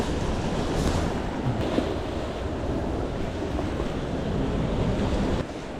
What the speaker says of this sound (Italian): il mare ancora picchia forte